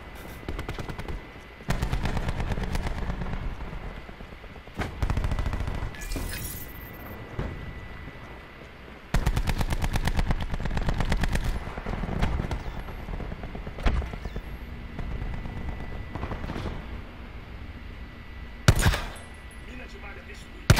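Repeated bursts of rapid automatic gunfire in the video game Call of Duty: Black Ops 4 alternate with quieter stretches and scattered single shots, with voices talking at times underneath.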